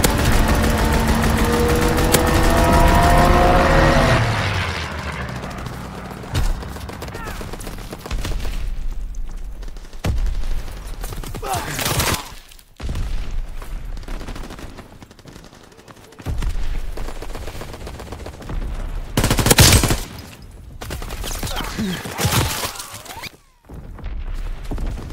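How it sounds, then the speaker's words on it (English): In Call of Duty gameplay, a fighter pilot makes a strafing run, with bursts of rapid gunfire and booming impacts coming in loud, separate waves across the clip, broken by short quieter gaps and engine rumble. "Fighter pilot inbound."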